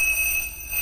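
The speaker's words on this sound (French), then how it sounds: "Le réveil." An alarm clock in a horror video game rings with a steady, piercing high-pitched electronic tone that holds throughout at fairly loud level, with no talk.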